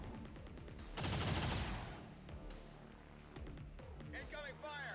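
Gunfire in XCOM 2 strategy combat, a short dense volley of shots followed by quieter rattling, with a character's voice calling out in the mix.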